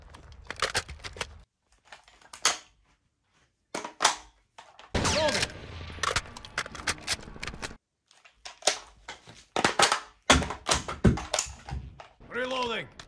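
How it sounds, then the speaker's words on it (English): Rifle magazine change from a Modern Warfare 2 reload recreated in real life, with separated bursts of sharp metallic clicks, slides and snaps, close and crisp, and short silent gaps between actions. "Changing mag."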